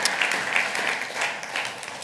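A church congregation claps together in a brief burst of steady, moderately distant applause acclaiming the Lord, with no voices standing out above the clapping.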